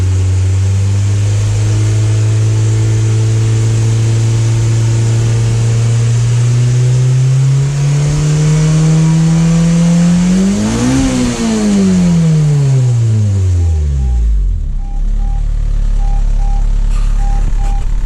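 A car engine revs after a wideband sensor and gauge install, rising steadily in pitch over several seconds before dropping back to idle, loud and close with no talk.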